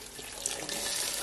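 Water runs steadily into a pot of Nigerian ogbono soup that already holds meat, making a continuous broadband hiss and splash for a little over a second with no voices.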